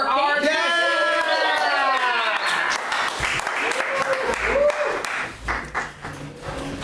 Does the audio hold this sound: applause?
yes